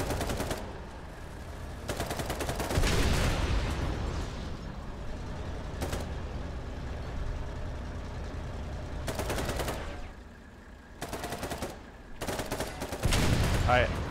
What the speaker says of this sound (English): Shoot them with the MGs.